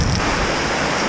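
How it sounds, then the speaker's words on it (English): Heavy rain pours down outside a workshop as a steady, loud, dense roar of broadband hiss that fills the whole moment without letting up. "It's absolutely pissing down."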